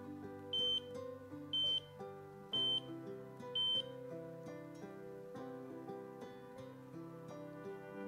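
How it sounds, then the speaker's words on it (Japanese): Four short, high electronic beeps from the buzzer of a 04 series gas monitor, evenly spaced about a second apart over a quiet background of soft music. "ブザーがピッピッピッピッと4回鳴るまでパワーモードボタンを押し"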